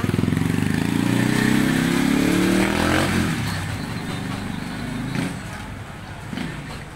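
A motorcycle fitted with a newly installed Mahika clutch is ridden on a test run, its engine rumbling loudly nearby at first, then fading as it moves away, with faint voices in the background.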